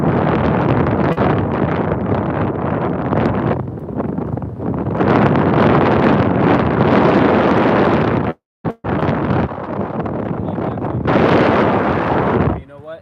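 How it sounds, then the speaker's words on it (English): Heavy wind buffets the microphone in loud, rumbling gusts, dropping out briefly once before roaring back. "It was probably like really windy"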